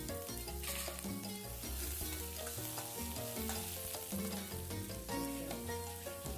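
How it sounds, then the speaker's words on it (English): Chopped onions and green chilies sautéing in a pan, a quiet continuous sizzle half buried under louder background music, with no speech. "Add the chopped onions and saute."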